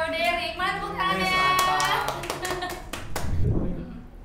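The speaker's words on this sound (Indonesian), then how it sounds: "Mana tepuk tangannya?" A few people clap in a sharp, uneven burst during a casual quiz session, the hand claps sounding close while voices talk and laugh over them.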